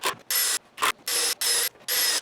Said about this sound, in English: I go back and I back screw the last of the screws in